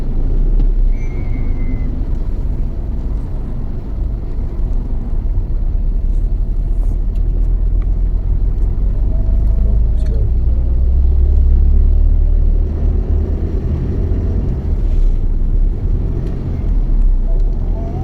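A large vehicle moving in dense, slow traffic on the Bekasi Timur toll road exit, heard as a steady, close, low road rumble that swells slightly midway and carries on without pause and without voices.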